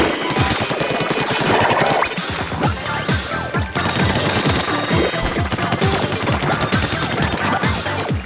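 An opponent fires rapidly in the video game Splatoon, a loud, fast string of punchy shots and splattering impacts repeating steadily over a busy, dense game backdrop.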